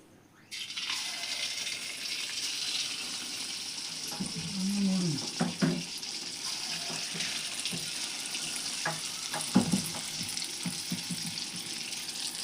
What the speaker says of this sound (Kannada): ಇದು ಎಣ್ಣೆ ಕಾದೈತೆ ಈಗ ಈಗ ನಾವು ಅಕ್ಕಿಯಿಂದ ಮಾಡಿದ ಹಿಟ್ಟಿನಿಂದ ಬಜ್ಜಿ ಬಿಡೋಣ್ರಿ